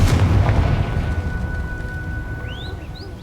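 Confringo fire spell blast in Hogwarts Legacy: a loud, deep booming explosion that rolls off and decays over several seconds, with faint rising magical whistles near the end.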